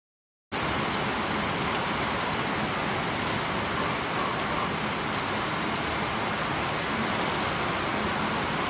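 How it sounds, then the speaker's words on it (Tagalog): Heavy rain falls as a steady, dense roar that starts suddenly after a brief silence and continues unbroken, loud and close, with no voices. "Lakas ng ulan, no?"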